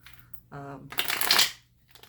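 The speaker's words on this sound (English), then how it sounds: "I'm going to keep shuffling for the upcoming week." Tarot cards being shuffled by hand, a brief close riffling burst of papery flutter that swells and fades over about a second.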